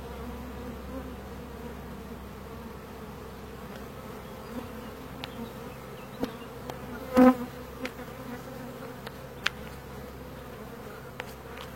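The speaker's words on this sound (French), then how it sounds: "Bah là c'est vraiment mes meilleures abeilles" Honeybees at an open hive during a July honey harvest hum steadily at low level, a continuous soft drone with occasional light knocks and clicks of frames being handled.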